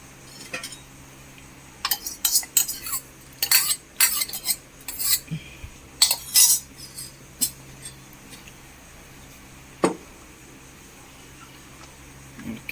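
A spoon stirs parippu payasam, a lentil pudding with milk and cardamom, in a metal pot, making a run of sharp clinks and scrapes in irregular bursts with quieter gaps between them.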